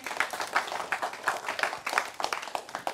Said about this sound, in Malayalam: എല്ലാവരും നന്നായി കൈയടിച്ചേ